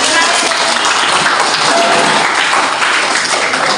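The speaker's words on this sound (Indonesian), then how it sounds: "Selamat untuk pemenangnya. Kita berikan tepuk tangan." Applause for the winners of a group game in a class or gathering, loud continuous clapping from a group filling the whole stretch, with some voices mixed in.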